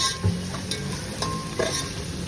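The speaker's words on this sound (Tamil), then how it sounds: "5 மீடியம் சைஸ் வெங்காயம் கட் பண்ணி வச்சுருக்கேன். அதை போட்டுட்டு நல்லா வதக்குங்க." Five medium chopped onions sautéing in a pan for beef biryani, a steady close sizzle with a few scraping stirs of the spatula and no talk.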